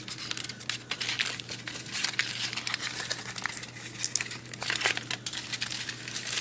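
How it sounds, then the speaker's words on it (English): Aluminum foil crinkles and rustles as it is folded over the edges of a children's art project, a close, continuous papery crackle with scattered sharper crackles and no talking. "Fold over the edges, and at this point you could tear off some of the foil so it's not tons of foil on the back of there."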